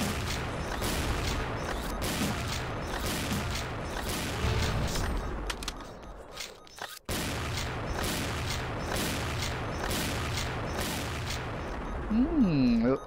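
Gunfire in the online shooter XSHOT comes in rapid, repeated bursts of loud shots that run almost without pause, broken once by a brief silence, with a rising and falling siren-like tone near the end.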